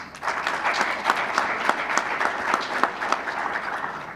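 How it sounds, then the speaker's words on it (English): An audience at the finals of a squash tournament in Uganda breaks into loud, sustained applause, many hands clapping together steadily for several seconds. "a big clap first"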